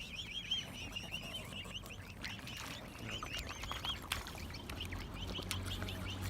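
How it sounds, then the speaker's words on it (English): A family of wild swans gives repeated honking calls nearby while being fed bread outdoors in strong wind, over a constant wash of background noise. "And here are some of the locals. The whole family of swans."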